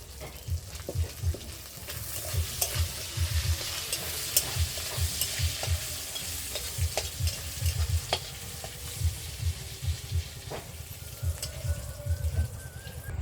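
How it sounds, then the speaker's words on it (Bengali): Nigella seeds (kalo jeera) frying lightly in hot oil in a kadai, a steady close crackle and sizzle with repeated scraping stirs running throughout, no talking. "অল্প করে কালো জিরে নিয়েছি এটা আমি হালকা করে ভেজে নেবো"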